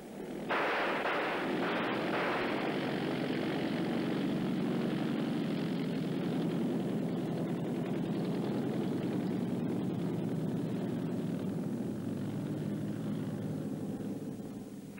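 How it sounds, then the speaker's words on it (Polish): A German liaison plane from the 1942 wartime setting drones overhead in a loud, sustained propeller roar that holds steady for about fifteen seconds, with a few sharp cracks near the start. "To samolot łącznikowy."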